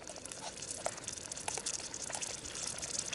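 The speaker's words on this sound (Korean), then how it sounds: "소리가 참 좋죠. 지글지글 보글보글." A pot of kimchi stew bubbles and sizzles softly and steadily at a campsite, with small pops and crackles over a faint watery simmer, no voices.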